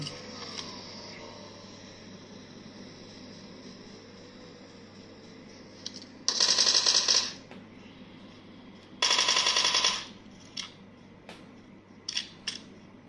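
Gunfire in PUBG Mobile played on a Samsung Galaxy S10e, two dense bursts of rapid automatic shots about a second long each plus a few single cracks, over a quiet hum, no talk.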